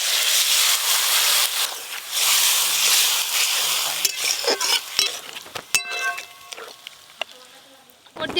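Water hits hot spices in a pan for a Rupchanda fish curry with a loud, steady sizzling hiss. The hiss fades into softer bubbling, clinks of a utensil and brief bits of talk.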